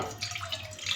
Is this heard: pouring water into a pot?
yes